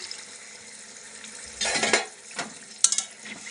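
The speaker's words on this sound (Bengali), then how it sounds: "আমি এখন জল দিয়ে দেব আর একটু জল লাগবে আর একটু জল দিয়ে দিলাম" Water hits hot oil in a frying pan and bursts into a loud hiss that fades over about a second, followed by a sharp utensil clink and a low background sizzle.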